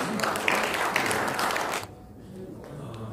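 Applause from an assembly audience approving a motion at a Korean church general assembly, a dense wash of clapping that cuts off sharply partway through, leaving quieter room noise.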